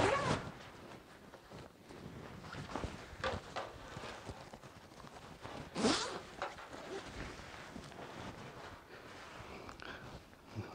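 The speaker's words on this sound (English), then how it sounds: "I'll start peeling off this inner jacket." Inner liner unzipped and pulled out of a 2018 Husqvarna Sixtorp all-weather textile jacket, close zipper rasps and rustling fabric with scattered clicks and handling knocks, no talking.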